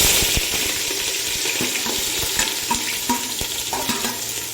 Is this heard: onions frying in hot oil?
yes